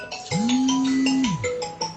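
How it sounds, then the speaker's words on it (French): A telephone ringtone sounds as one loud, steady electronic tone that swells in, holds for about a second and slides away, set against a busy background of other sounds. "La mère est sauvée par le téléphone."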